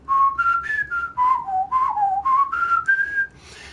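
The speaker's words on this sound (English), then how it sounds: "I'm just blowing air through my mouth to whistle" A person whistles a short, wavering melody, up close and fairly loud, in a string of distinct pitched notes with brief breaths between phrases and no talking.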